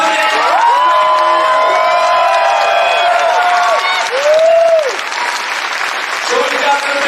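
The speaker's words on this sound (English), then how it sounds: "Can we get a big round of applause for our future president?" A large rally crowd in Iowa City bursts into sustained applause with cheers and whoops for a presidential candidate, loud and dense throughout, with shouted voices rising over the clapping.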